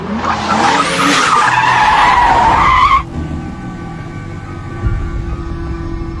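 In a film chase scene, a car speeds and skids with a loud screeching tire squeal and roaring engine that rises in pitch, then cuts off abruptly, leaving a quieter rumble and a brief thump.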